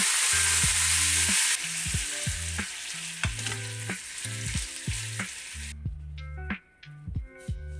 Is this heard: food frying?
yes